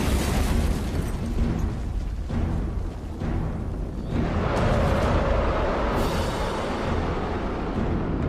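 A V2 rocket launch goes wrong in a heavy explosion, a sustained, loud roaring blast with booming surges that rise again midway and keep rumbling without any voices.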